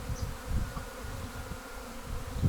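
A honeybee swarm flies around a hive, making a soft, continuous droning hum with low wingbeat flutter as individual bees pass close, faint and steady throughout.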